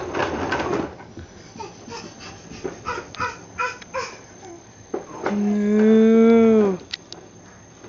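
A cow toy lowing with a long, loud pitched moo near the end, preceded by a toddler's babble and soft household sounds.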